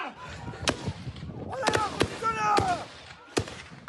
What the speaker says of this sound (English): a gunshot rings out